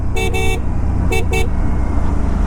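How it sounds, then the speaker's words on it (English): A loud dual-tone horn on a riding Aprilia RS 457 motorcycle honks twice in quick pairs, two short blasts early and two more a moment later, over steady road and engine rumble. "I wanted to show you how this horn sounds right while the bike is on the fly."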